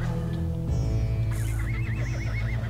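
Horse neighing in the video game Ultima Online, a loud whinny with a wavering pitch, layered over low rumbling hoofbeats and game sounds, with no voices.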